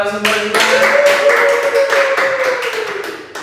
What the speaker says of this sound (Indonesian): berikan tepuk tangan dulu untuk Bapak narasumber kita